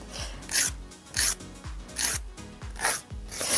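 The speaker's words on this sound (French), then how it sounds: "Lorsque vous limez du gel, vous pouvez largement limer avec une lime grain 100 sans aucun problème." A grit 100 nail file rasps across gel nails in quick, regular back-and-forth strokes, close and crisp, with short pauses between the scratchy passes.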